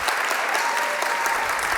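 A crowd at a rally against book bans applauds, a brief, dense and even wash of clapping throughout, fairly loud and continuous with no break.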